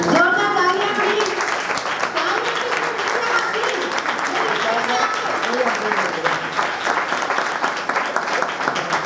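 Audience at a church prize distribution claps loudly and steadily for a winner, a dense close rattle of hands lasting several seconds, with a voice speaking over the start.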